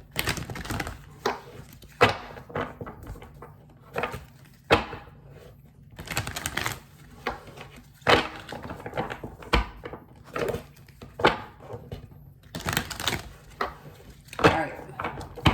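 Repeated bursts of rapid papery riffling and tapping as tarot cards are shuffled, separated by short quieter pauses, close up.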